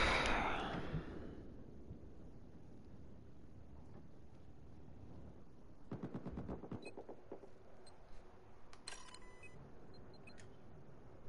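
Gunfire in Battlefield 4 gameplay: an initial loud crash-like burst, then faint bursts of shots, with rapid automatic clusters in the second half, all fairly distant and quiet.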